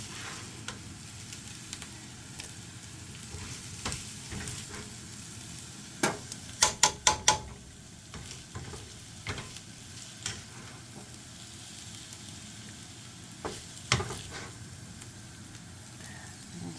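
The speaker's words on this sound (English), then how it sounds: "Let's mix it up and give it a stir and see what it looks like." A spoon stirs a pot of vegetable chicken soup with onions, giving soft scraping and a quiet bubbling simmer, plus a cluster of sharp metallic clinks from the utensil knocking the pot midway and once near the end.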